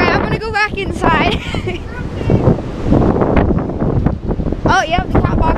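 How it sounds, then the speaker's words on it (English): Strong storm wind buffets the microphone outdoors in loud, gusting rumbles that fill the whole stretch, while a person talks over the roar in bursts. "Over here it's not windy at all. Oh, never mind. Super windy."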